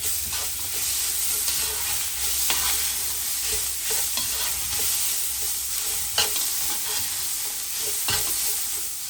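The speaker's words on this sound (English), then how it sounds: "So my ginger, garlic and chili paste has fried off for about 3 minutes" Crushed ginger, garlic and chili paste fries in a pot for a Fijian lamb shank palau, a steady close sizzle with occasional stirring clinks and pops, no talking.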